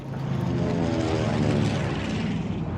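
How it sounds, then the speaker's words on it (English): Retrofitted commercial propeller airplanes in flight, escorted by fighters over treacherous mountain passes, give a loud, steady droning engine roar that stays constant throughout with no talk. "Flying Tigers escort these retrofitted commercial planes."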